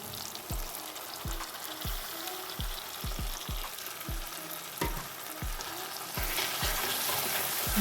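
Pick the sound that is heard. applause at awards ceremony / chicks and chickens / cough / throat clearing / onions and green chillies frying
onions and green chillies frying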